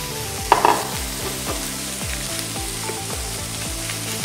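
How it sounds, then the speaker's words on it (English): About 300 grams of bacon frying in a pan, a steady loud sizzle with close crackles and pops and a low repeating hum underneath. "Now it's time to fry the bacon."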